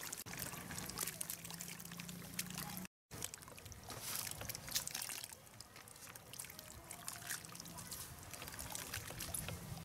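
Water poured and trickling into a cow dung and crop residue compost mix being prepared by hand outdoors, a soft steady wash of liquid with faint voices in the background.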